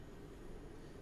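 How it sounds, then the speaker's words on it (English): Freight train passing in the video game Train Sim World 6 on a heavily used freight corridor, a steady low rumble of rolling wagons that stays even throughout the short stretch. "Freight train."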